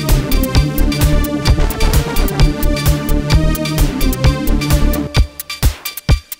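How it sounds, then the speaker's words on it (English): Electronic drum pattern built entirely from Phuturetone synth plug-ins, a steady loud beat of punchy kicks, snappy hits and bright ticking percussion that thins out near the end, with no voices. "So those are all drums that were created with only Phuturas."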